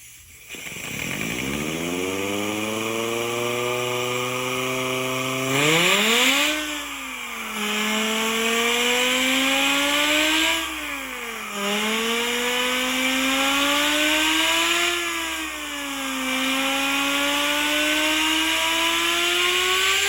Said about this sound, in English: it is in fact a sound effect movie prop machine